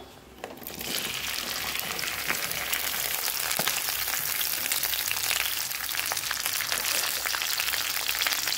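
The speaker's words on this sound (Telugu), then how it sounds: "సో ఆయిల్ హీట్ అయ్యాక ముందుగా బెండకాయలు వేసుకుందాం." Okra pieces frying in hot oil for a Telugu bendakaya curry, a steady dense sizzle that jumps up within the first second and holds loud and even throughout, with faint crackles and no voices.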